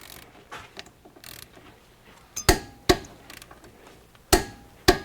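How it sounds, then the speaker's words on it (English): A torque wrench tightening a caliper bracket bolt to 65 foot-pounds on a Mercedes Sprinter's front brakes gives two pairs of sharp, close metallic clicks after softer ratcheting and handling noises, with no talking. "now I'm gonna grab my torque wrench so I can torque the caliper bracket bolt"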